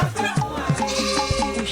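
Goats and sheep bleat on a farm in Togo where poultry and small ruminants are raised, several short overlapping calls coming in quick succession at close range, with no voices over them.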